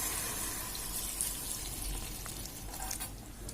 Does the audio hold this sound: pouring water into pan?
yes